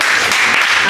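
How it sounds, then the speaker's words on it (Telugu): A youth Bible class at a church claps hard together, producing a short, dense, loud burst of applause from close by. "గట్టిగా కొట్టాలి క్లాప్స్"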